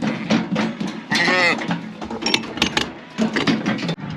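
Sheep being run through a farm gate, with short bleats from the flock and mechanical clanks from the gate amid movement noise, while someone talks over parts of it.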